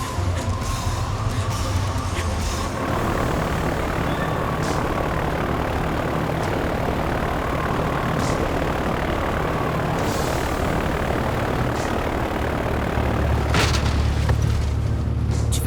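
An aircraft's engine runs before takeoff in bad weather: a loud, steady low drone and rumble that holds for the whole stretch, with faint rattles and thumps over it.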